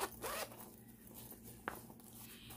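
A zipper on a Velcro-flapped, zippered front pouch of a fabric project bag is pulled in one short rasping stroke. A second, brief tug follows, close and quiet.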